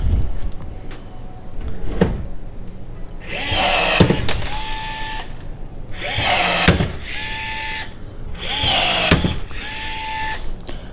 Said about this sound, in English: First rivet with the new rivet gun.